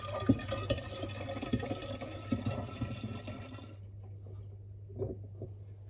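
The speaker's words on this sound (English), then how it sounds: "And then I add the rest of the wine back into the demijohn." Homemade sparkling wine of red grape, plum and apple poured back into a glass demijohn, a soft gurgling trickle with small splashes, ending in a few faint drips.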